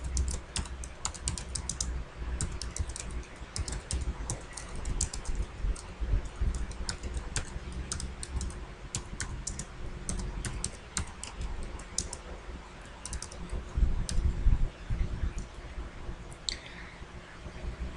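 Rapid clicking keystrokes on a computer keyboard, close and continuous, with uneven bursts of typing and occasional heavier taps.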